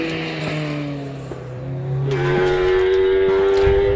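A Ford Escort rally car at a hillclimb, its engine note climbing through the revs and shifting pitch as it powers away, loud and fairly close, with the tone rising sharply partway through.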